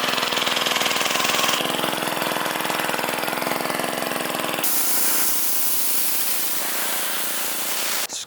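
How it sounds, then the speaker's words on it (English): A steady hiss of Purple Power degreaser spraying onto car parts outdoors over a droning engine, continuous, with an abrupt shift in tone midway and a brief cutoff at the end. "Start spraying a whole bunch of purple power."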